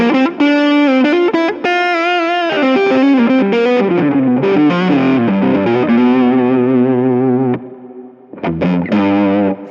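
A Martin guitar played through a heavy effects pedal with reverb, loud, sustained distorted chords and ringing notes, a brief drop near the end before more strummed chords.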